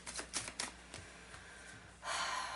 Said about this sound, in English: I'm going to pull a couple more cards here. Oracle cards.